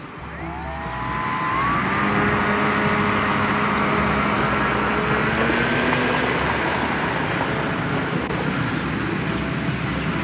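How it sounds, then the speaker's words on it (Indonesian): A locally built RC high-wing trainer model airplane on its maiden flight gives a loud, steady electric-motor whine that builds over the first two seconds and then holds without a break. "Maiden flight pesawat trainer high wing"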